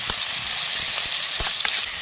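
Chopped tomatoes sizzling and frying in a hot pan for a Bengali hilsa dish, a steady close hiss with small crackling pops throughout and no talking.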